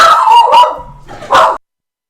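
A dog barks close by in two short bursts of a few sharp, loud barks with a brief gap between, then silence.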